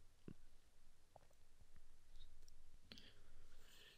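Computer mouse clicking up close, a few sparse soft clicks over a faint low room hum, no talking.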